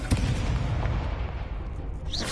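Spell blasts in the Hogwarts Legacy video game make a dense, loud rumbling burst of magical impacts and explosions that fills the moment continuously.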